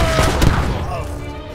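Musket volley fire in Age of Empires III Definitive Edition during the 1582 Honnō-ji Incident scenario: a quick cluster of booming shots up front, fading into a ringing tail while voices talk.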